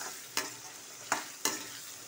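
Brinjal sautéing in oil in a pan for kuzhambu, a faint soft sizzle broken by three sharp scrapes of a stirring spoon.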